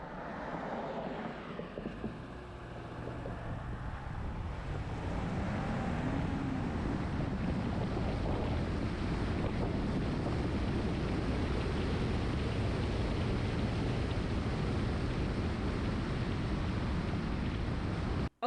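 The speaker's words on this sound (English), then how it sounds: "roll footage showing you what the engine compartment outside of the vehicle sounded like on the road" Engine compartment of a 2012 Subaru Legacy with stock intake, recorded outside the car while driving on the road; a steady roaring drone mixed with wind rush, quiet at first then rising and holding loud and constant.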